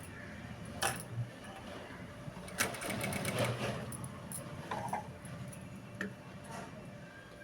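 A sewing machine stitches shaped belts on the front part of a blouse in short, quiet bursts of rapid whirring, separated by pauses and small clicks of handling the fabric.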